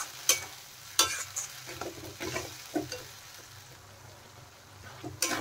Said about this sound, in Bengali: এখন মশলা ভালো করে আর একটু কষিয়ে নেব।